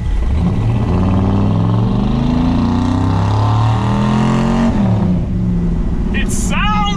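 A 450hp 1965 Chevrolet C10 pickup engine revs up and down nearby, rising and falling in pitch with a throaty roar, and a high squeal at the end.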